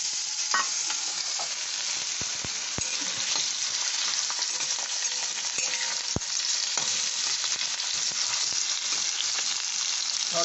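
Potatoes tossed into hot oil after a cumin and bay leaf tempering, producing a loud, continuous close sizzle with a few sharp clicks from stirring.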